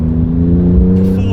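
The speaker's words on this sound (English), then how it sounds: "I don't know quite how Porsche made this sound so good for a turbocharged engine" Turbocharged Porsche GT2 RS Weissach engine droning steadily at high revs, loud and close inside the cabin, with a faint whine rising toward the end.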